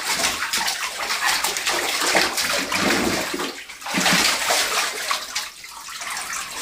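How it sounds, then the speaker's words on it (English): A child splashes water in a bathtub, with continuous irregular sloshing and splattering close by, pausing briefly between bursts. "Oh, are you taking a bath?"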